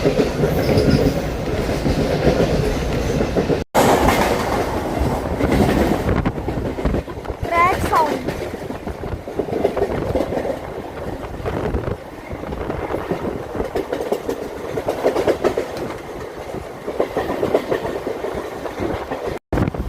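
A Mumbai suburban local EMU train at Andheri station rumbles and clatters over the rails for a long stretch, with wind buffeting the microphone and faint voices in the background.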